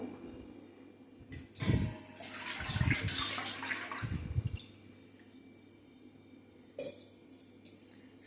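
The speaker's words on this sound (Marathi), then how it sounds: "त्यासाठी मी एक मोठा गंज घेतला आहे त्यात गडवाभर पाणी टाकू" Water is poured into a large metal pot to ready a steamer for instant khaman dhokla, coming in several short splashing bursts close by, with quieter running water between them.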